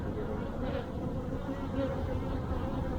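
Honeybees swarm around an open rooftop hive during a honey harvest, filling the air with a close, steady, low buzzing hum that never lets up.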